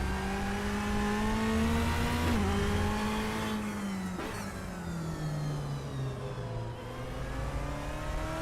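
A Ferrari race car engine on the Interlagos circuit in the RaceRoom racing game holds a steady high-pitched drone, dipping briefly at gear shifts and then falling as the car slows, with no talking.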